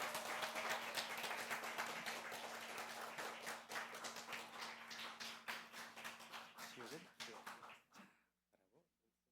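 A church congregation bursts into loud, sustained applause that gradually thins into scattered claps and fades out, with a steady electronic hum beneath.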